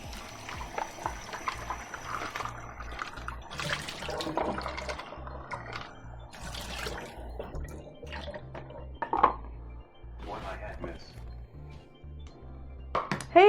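Radishes are rinsed under running water at a kitchen sink, with steady splashing and dripping plus occasional clinks of dishes over about thirteen seconds.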